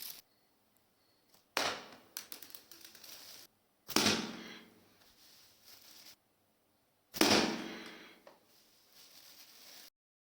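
A homemade slingshot fires pebbles at a cardboard bag: three separate sharp snapping impacts, each followed by a short rattling decay, spaced a couple of seconds apart with quiet between, close and fairly loud, no talking.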